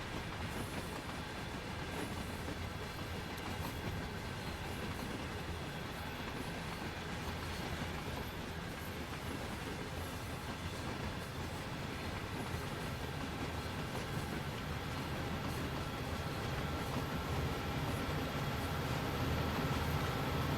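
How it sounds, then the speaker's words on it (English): A model coal train with rear pusher units and a caboose rolls past, giving a continuous rumble with faint clickety-clack of wheels over track joints, steady and close for the whole stretch. "Here come the rear end pusher units. And the caboose."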